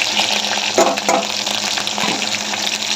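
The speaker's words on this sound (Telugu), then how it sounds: "నూనె వేడైంది ఆవాలు జీలకర్ర కూడా వేసేసిన అది అది కూడా అయితే ఇట్లా అయింది ఉల్లిగడ్డలు మిరపకాయలు వేసుకుంటాను" Onions and chilies sizzling in hot oil that already holds mustard seeds and cumin, a steady close hiss of frying with a few brief stirring clatters, no voices.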